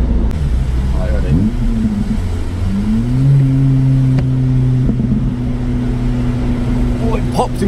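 Honda VTEC engine revving with steady harmonic drone that rises in pitch, with a brief crackle near the end; people talk over it inside the car.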